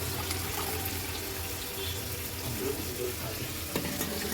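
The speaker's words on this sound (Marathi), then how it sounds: "इथे आपण वरी ठेवलेली ती एक वेळा स्वच्छ पाण्याने धुवून घ्यायची." Water runs and splashes steadily as barnyard millet is rinsed in clean water, a continuous close wash of sound with faint kitchen noise beneath and no talk.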